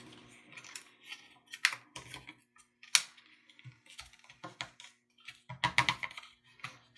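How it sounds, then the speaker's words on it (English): Paper being folded and creased by hand into a swallow-style paper airplane, a run of crisp, close crinkles and sharp taps coming in irregular bursts, with quiet gaps in between. "So let me fold one and I'll show you exactly what I mean."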